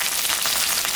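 Sliced onion and a few green chillies frying in hot oil already seasoned with cardamom, cinnamon and bay leaves, for a chicken curry. The sizzle is a steady, close, bright hiss with soft crackles, and no one speaks.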